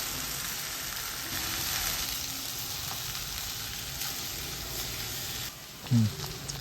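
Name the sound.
chopped okra and onion stirred and frying in pan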